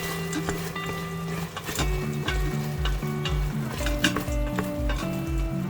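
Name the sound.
stirring wild boar curry in a pressure cooker pot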